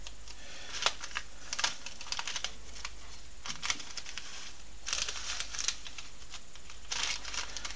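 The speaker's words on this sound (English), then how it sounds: "these are just going to get temporarily taped like this" Paper pattern pieces for a miniature duck decoy are temporarily taped, with soft crinkling, tape tearing and scattered light handling noises over a low steady hum, close and quiet.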